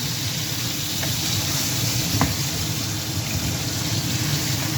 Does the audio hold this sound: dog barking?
no